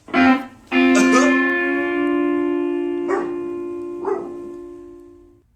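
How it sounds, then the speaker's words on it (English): A pet dog at home gives two sharp yips followed by a long, sustained howl-like tone that swells and fades, with a couple of brief accents near the end. "And at the end, you can hear my dog Matisse on cue"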